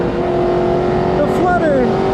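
Turbo flutter from a 600hp McLaren on a race track, a brief fluttering chirp as the throttle lifts, heard over steady loud engine and road roar with a driver talking.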